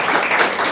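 Audience applause at a lecture on climate action and illicit financial flows, honoring a colleague's newly earned doctorate; a brief, steady burst of many hands clapping, moderately loud and continuous.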